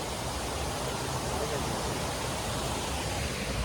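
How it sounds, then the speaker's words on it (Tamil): Waterfall at Manalaru Falls rushes in a steady, broadband roar, a constant even wash of falling water heard close and loud throughout, with no speech. "முதல்ல ஒரு அருவியை பார்த்துக்கோங்க"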